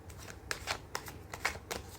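Tarot cards being shuffled by hand, a rapid series of close, crisp riffling flutters with short pauses between bursts and no voices.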